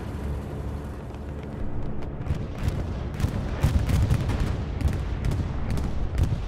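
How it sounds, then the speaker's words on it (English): Bombing run in Hell Let Loose on Omaha Beach, a series of muffled, rumbling explosions and blasts rolling in at moderate distance over a constant low battlefield roar. "Bombing run coming through the back here."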